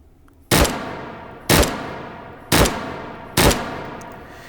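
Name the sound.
3-round burst gunfire from video game Hot Dogs, Horseshoes and Hand Grenades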